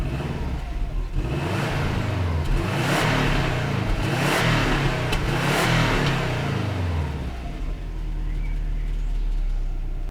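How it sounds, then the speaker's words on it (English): Stock exhaust of a warm Subaru Forester XT revving up repeatedly, deep engine rumble swelling in several bursts and settling back to idle, loud and close, with some voices over it. "It's my fucking car, it's warm, and I'm gonna rev it."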